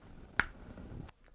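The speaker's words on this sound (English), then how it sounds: "Don't snap your fingers." One sharp, close finger snap, crisp and isolated against a faint quiet background.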